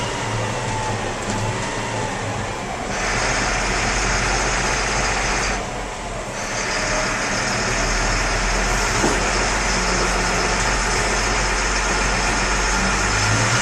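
A steady, loud engine drone from an M1078 military truck underway, rumbling continuously with brief dips in level as it drives.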